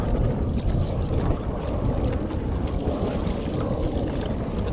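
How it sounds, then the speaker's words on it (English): Old Town Big Water 132 PDL kayak bow slicing through ocean swells off Redondo Beach, a steady broadband rush of water and wind noise filling the whole stretch without pause. "the front of the Yak on the bow here is performing quite well. It's just cutting through these swells, no problem."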